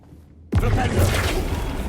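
In Hogwarts Legacy, a Flipendo spell goes off with a sudden loud whoosh that begins after a short quiet pause and holds as a dense, sustained burst.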